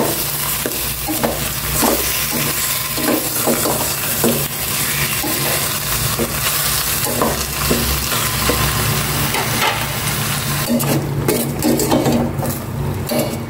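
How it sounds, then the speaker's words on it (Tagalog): Chicken sautés in a pan with a loud, continuous sizzle, and a utensil scrapes and stirs against the metal in repeated strokes. No one speaks. "Ginisa ko muna itong maigi."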